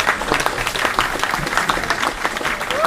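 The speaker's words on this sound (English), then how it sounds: "Big round of applause." An audience at a live public meeting gives a round of applause, a dense, even patter of many hands clapping together for about three seconds, moderately loud and without speech.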